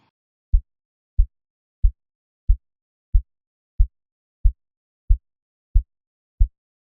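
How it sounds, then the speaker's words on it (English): A MIDI sub kick drum filtered to leave only lows below 75 hertz thumps ten times in a steady, evenly spaced pulse, each hit a short, deep, dry boom with no talking. "So the sub kick sounds really good."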